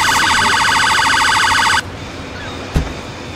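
Ambulance siren in the Emergency 4 video game, a loud, rapid warbling wail close by for nearly two seconds that cuts off abruptly, followed by a single short knock against low background noise.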